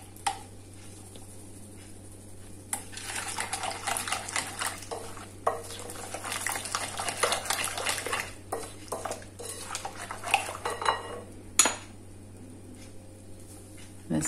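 Pancake batter is stirred in a bowl with a utensil, making close, irregular scraping and clinking strokes in uneven bursts over a low steady hum.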